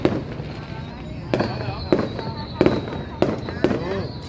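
A fireworks display over Long Khanh city marks 2023, with several sharp bangs echoing at intervals over crowd chatter and people talking nearby.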